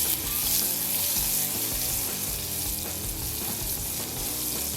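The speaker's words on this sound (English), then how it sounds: "Take a whisk and just give it a nice stir." Butter melting in a saucepan while a whisk stirs it, a dense continuous sizzle and bubbling up close, steady in level from start to finish with no voices.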